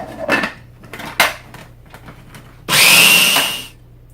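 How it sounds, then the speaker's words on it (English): A food processor whips heavy cream into whipped cream for strawberry shortcake, running as a loud, steady whir of nearly a second after a couple of short clatters and knocks before it starts. "see how simple it is if you make it in a food processor"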